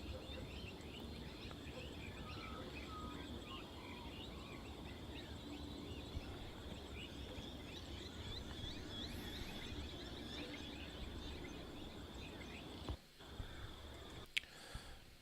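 Australian birds calling in a dawn chorus, a dense mix of overlapping chirps and calls at mid distance, steady and fairly faint throughout, with a couple of brief sharp knocks near the end.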